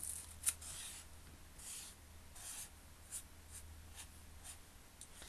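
A pen draws leaves on paper for a hibiscus branch background, giving soft, quiet scratching strokes in short bursts with a few sharper taps, close and alone.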